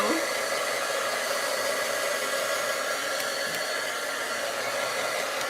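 A heat tool blows a steady, loud broadband rush of air while drying gingerbread and Santa craft pieces, running continuously without a break for the whole stretch.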